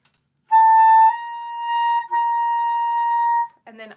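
Clarinet holding a steady sustained tone, then re-articulating to a high C after starting on B, two clean held notes with a brief break between, close and clear, followed by a short spoken sound.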